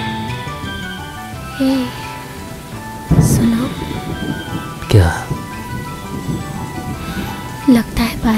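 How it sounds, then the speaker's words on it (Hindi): Rain falls steadily with rumbling thunder claps at intervals, heard close under a film scene's background, with brief tonal sounds mixed in. "बारिश हो रही"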